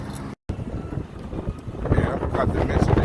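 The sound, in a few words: wind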